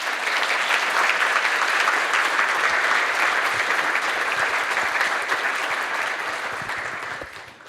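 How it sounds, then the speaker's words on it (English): A conference audience at a Playwright testing talk breaks into sustained applause, dense and even clapping from a large crowd that holds for several seconds before tapering off. "A huge round of applause."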